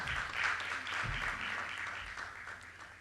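Audience applause for a panelist at a business panel on jobs and investor confidence, a steady, dense round of clapping that swells early and holds throughout, with a faint voice underneath.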